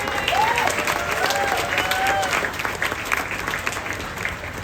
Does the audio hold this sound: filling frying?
no